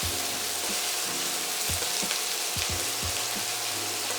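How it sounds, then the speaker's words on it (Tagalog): Vegetables sautéing in a hot pan with onion and garlic, a steady, close crackling sizzle with a few soft knocks of a utensil, no talk. "Habang nagigisa po kayo ng gulay, laging maglalagay ng kaunting asin."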